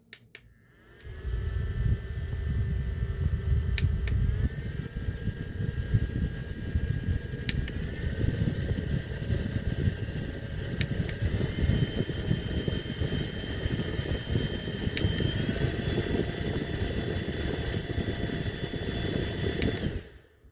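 A SECHKISS desk fan hums steadily on its lowest setting, a soft broadband whir with a faint tonal whine, running continuously without change.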